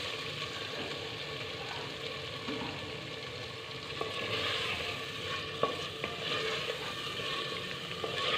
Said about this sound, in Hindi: चार से 5 मिनट के लिए आलू जो हैं वो मसाले के साथ हमने भून लेने हैं।